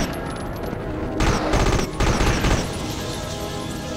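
Rapid sustained gunfire from the vampire killer gun in a video game, a dense loud burst of shots that swells in the middle and continues steadily to the end, with church music faintly underneath.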